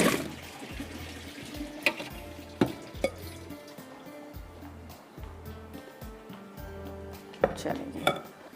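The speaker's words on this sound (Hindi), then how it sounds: "यहाँ पर मैं इसको पानी को फेंकती हूँ और आलू इसमें डालूँगी।" Pots and utensils clatter in a kitchen while water is drained from a pot and cut potatoes are tipped in for an aloo karahi, with sharp metallic knocks over steady splashing and handling noise.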